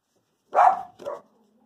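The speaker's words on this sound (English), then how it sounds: "And that's the dogs barking at something." Dogs barking, two quick close barks, the first louder and longer, the second shorter, in an otherwise quiet room.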